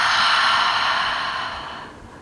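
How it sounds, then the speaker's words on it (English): A single long exhale during a yoga flow, a close, breathy airy rush that starts strong and gradually fades over about two seconds, with no speech. "Exhale it out."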